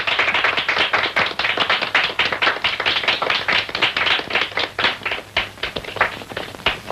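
A crowd claps for the winner of a karate bout, steady dense applause with many overlapping hand claps that stay loud and close throughout, no voices.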